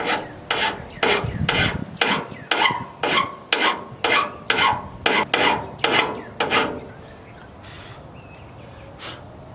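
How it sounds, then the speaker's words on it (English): Hand file rasping metal for clearance on a 1964 Pontiac Le Mans, about a dozen steady rhythmic strokes close up, stopping near the end to quiet room noise. "take a file and clean that off a little bit like I did over on this side, just to clearance it ever so slightly"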